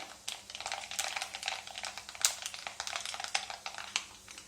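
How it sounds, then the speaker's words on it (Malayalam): Mustard seeds crackle and pop in hot oil in quick, irregular bursts, like a patter of small snaps over a faint sizzle. "അപ്പോൾ നമ്മുടെ കടുക് നന്നായിട്ട് പൊട്ടി തുടങ്ങിയിട്ടുണ്ട്."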